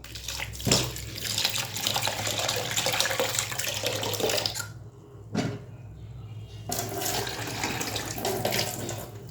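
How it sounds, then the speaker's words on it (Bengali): Lentils being washed in a bowl under running water, a steady close splashing and sloshing with a brief pause midway, then the water flows again, with no speech. "এবারে আমি ডালটা ধুয়ে নিলাম। আর একবার ধোবো।"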